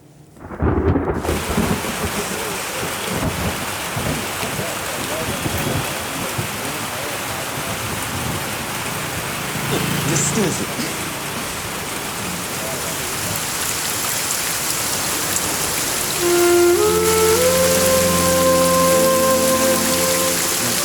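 Steady rain pours down with deep rumbles of thunder, and a ringing electronic melody starts up near the end.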